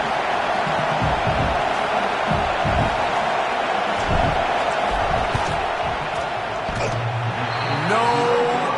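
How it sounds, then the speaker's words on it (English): Stadium crowd noise rises during a field goal attempt in a football video game, a dense, steady roar with muffled thumps, and a voice speaks over it near the end. "This crowd trying to do its part to get inside the kicker's head."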